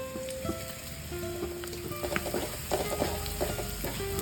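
Crushed chili flakes frying in oil with garlic, shallots and curry leaves for an egg and amaranth thoran, a moderate crackling sizzle with scattered pops and spoon scrapes, close and without talk.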